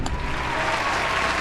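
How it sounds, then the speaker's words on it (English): Audience applause at a sports trivia show, a brief, full wash of clapping and crowd noise that stays even throughout. "Let's get a round of applause."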